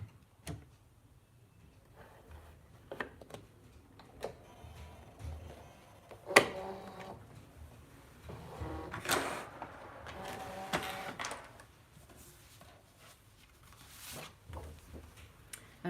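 A Brother ScanNCut cutting machine runs quietly, with soft intermittent mechanical whirs and clicks, a few sharper knocks, and pauses in between, fairly faint and close.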